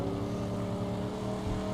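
The Magnum Opus car's engine drones steadily in the Mad Max video game, a loud continuous low rumble with a constant tonal hum and no pauses.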